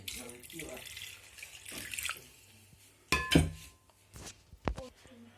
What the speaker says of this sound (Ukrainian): Все, заливаємо водичкою. Ще повністю покрити перчик.